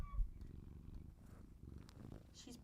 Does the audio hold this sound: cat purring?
yes